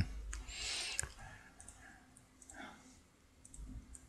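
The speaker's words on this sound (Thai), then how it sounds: "คลิกตรงนี้นะครับแล้วก็เลือกปุ่มนี้" A computer mouse gives a few sharp, quiet clicks, one crisp click standing out near the start, while a voice speaks softly in the background.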